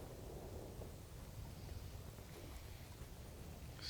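Wind blowing across Lake Chickamauga during a bass fishing tournament, a steady low buffeting rush against the microphone, continuous and fairly quiet with no talking.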